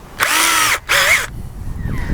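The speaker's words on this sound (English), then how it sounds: "So we'll put the larger drill bit in." A power drill fitted with a larger bit bores into a mosaic substrate in two loud, whining bursts, the second pitch-dipping under load, followed by a quieter tail of low rumble.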